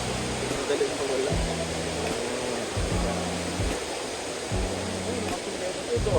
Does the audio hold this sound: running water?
yes